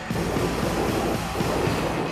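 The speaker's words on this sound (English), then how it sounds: "We have encountered a road train." A road train truck rumbles past on an outback road, a steady, loud, broad roar that fills the whole moment without a break, with no voices over it.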